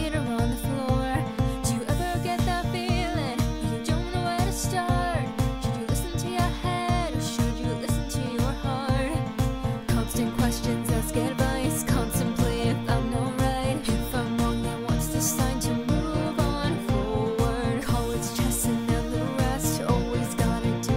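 A pop song's first verse plays alone at a steady tempo, built from muted bass, a thumping kick drum, claps, synth and guitar layered in a dense, continuous mix.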